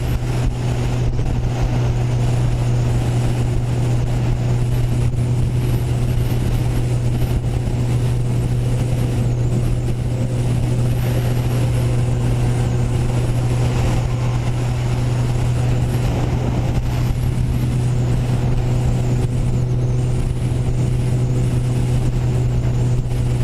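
Kawasaki ZX14R (ZZR1400) motorbike riding alongside and past a large truck on the road, a loud, steady engine drone with constant wind and road roar throughout.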